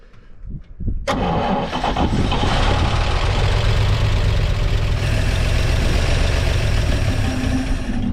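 A six-cylinder engine cranks and catches with a loud start, then settles into a steady, smooth, close-up idle that runs unbroken to the end with no talk.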